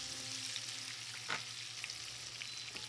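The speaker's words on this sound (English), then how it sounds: "Add your diced onion and your carrot. Cook the onion and the carrots for 3 minutes." Diced onion and carrot frying in a pan as a lasagna base, giving a steady, close hiss of sizzling oil with one brief scrape of a stir partway through.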